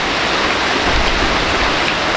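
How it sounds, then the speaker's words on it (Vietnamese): Steady rain pours down in a dense, even wash of noise with no breaks, close and fairly loud, with no voices heard. "Trời mưa buồn lắm đó."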